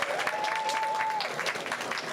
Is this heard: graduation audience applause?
yes